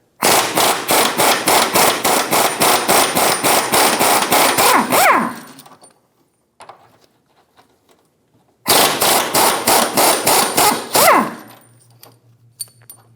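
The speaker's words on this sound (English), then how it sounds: "Remove the 2 17mm bolts on the left side of the rack." An impact gun hammers off 17mm bolts on the rack of a 2003-2007 Infiniti G35 during driveshaft replacement, producing two loud, rapid rattling bursts of about five and three seconds separated by a quiet pause.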